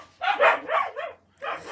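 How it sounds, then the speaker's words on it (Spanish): Dogs bark in a few quick, muffled yaps, fairly close, grouped into two short bursts with a brief pause between them. "Pensé que están ladrando los perros."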